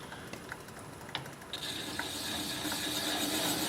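A wood lathe turning a thin-wall bowl, slowed to about 200 RPM, makes a steady low mechanical whir with faint ticking. Partway through, a thin, sustained whine rises as the motor speed changes.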